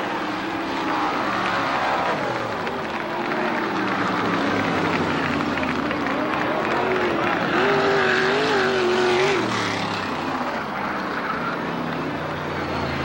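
Loud roaring CRA sprint car engines pass continuously during a heat race, rising and falling in pitch as cars speed around a track toward the checkered flag, with a voice talking over the noise.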